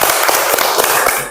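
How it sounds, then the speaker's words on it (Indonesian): A classroom of students claps for a classmate, a short burst of loud, rapid, dense hand claps close by, with no talking over it. "Tepuk tangan buat Jaira"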